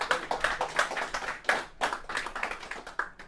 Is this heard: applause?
yes